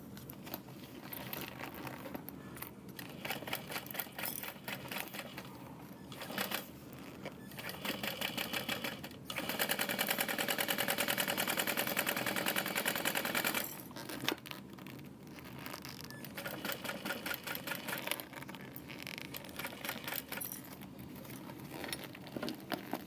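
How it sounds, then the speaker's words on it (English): A sewing machine bastes around the top edge of a fabric tote, its rapid needle chatter running in close bursts with brief pauses and one long continuous stretch midway, with no talking. "I'm just gonna go around the top edge again to baste down those sides."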